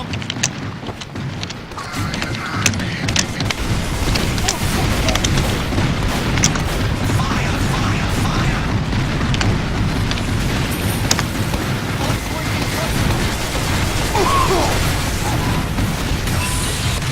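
A nuclear bomb explosion in the video game Team Fortress 2, a heavy sustained roaring rumble that swells in within the first two seconds and stays loud and dense throughout.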